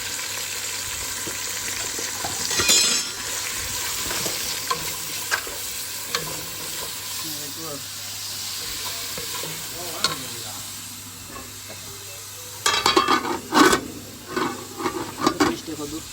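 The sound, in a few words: stirring and frying onions and spices in oil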